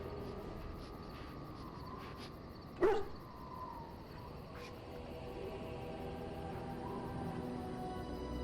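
A dog in the video game Dragon Age: Origins gives a single short bark over a steady hum of game ambience, with faint distant tones around it.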